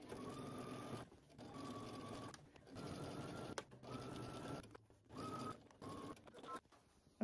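A sewing machine stitches bursts of understitching close to a facing seam. Short runs of motor hum and needle chatter start and stop repeatedly at a moderate level, with brief pauses between them.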